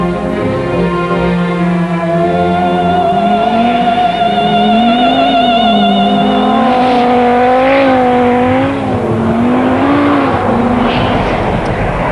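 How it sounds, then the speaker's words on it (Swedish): A 550 hp Audi Sport Quattro rally car driven hard on a frozen lake, its engine loud and close, revving up and down continuously with rising and falling pitch as it accelerates and slides across the ice. "Och här gasar vi runt med en sportquattro på 550 hästar."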